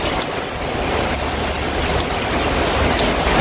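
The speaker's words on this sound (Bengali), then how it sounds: "বৃষ্টি নামে আবার কমে আবার বাড়ে আর কমে আবার বাড়ে" Rain falls in a village with a dense, even patter and hiss of drops hitting surfaces. The sound stays close and loud throughout, with no voices.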